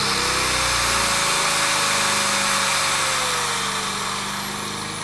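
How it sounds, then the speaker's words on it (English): An electric grinder running on a Champion inverter generator: a steady, loud high-pitched whine with a constant motor drone, continuous for the whole stretch and easing slightly toward the end. "let's hit the grinder. Here's the grinder right here."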